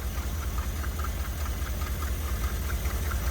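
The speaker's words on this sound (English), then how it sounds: "The carburetor made a big difference. I mean, it idles good." An old vehicle engine idles steadily after carburetor work, a continuous low rumble with a faint regular ticking, close and constant with no talking.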